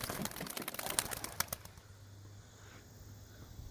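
Pigeons burst from a hollow loft, a quick flurry of wingbeats clapping close and loud for under two seconds before fading to quiet outdoor air.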